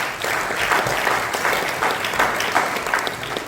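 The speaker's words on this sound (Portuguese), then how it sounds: "uma salva de palmas para agradecer ao grupo da" A festival audience at an African literature event at Clube dos Amigos de Catete applauds to thank a group, a loud, dense and sustained round of clapping with no voices over it.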